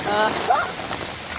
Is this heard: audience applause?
no